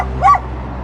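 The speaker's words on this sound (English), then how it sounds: "That's a small dog and big yap." A small dog gives a single sharp yap, loud and close, standing out briefly against a steady low background hum.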